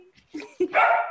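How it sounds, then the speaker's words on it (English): A dog barks and yips indoors in short, close bursts, the last one longer and whining, with no talking over it. "do you hear my dog barking?"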